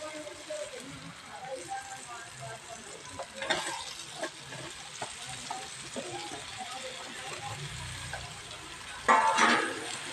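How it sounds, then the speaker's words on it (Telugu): Pieces of spiny gourd sizzle alongside tomato pieces in a hot pan, a steady low crackle broken by occasional stirring scrapes, with a brief louder burst of hissing near the end. "ఇప్పుడు ఈ ఆకాకరకాయలు కూడా మనకి ఫ్రై అయిపోవాలండి."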